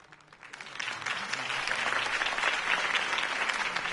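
Crowd applause in a Batman video game after a campaign speech by Harvey Dent, swelling from a quiet start into a broad, sustained roar of clapping that stays full and fairly distant.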